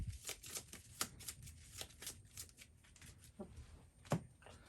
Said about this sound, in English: It doesn't have a deck, so I need to shuffle this and create a new one.